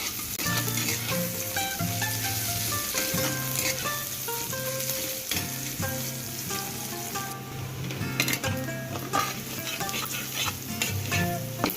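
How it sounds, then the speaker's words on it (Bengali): Sliced onion frying in hot oil with whole garam masala for a chicken curry, a steady close sizzle with repeated spatula scrapes and stirring clinks against the pan throughout, no voices. "যেই পেঁয়াজটা একটু গোলাপি আভা ছড়াতে শুরু করলো তখনই এর মধ্যে গোটা গরম মশলা"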